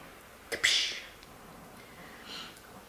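A single sharp sneeze bursts out indoors, close and fairly loud, then fades into quiet room noise with a softer breathy hiss a moment later.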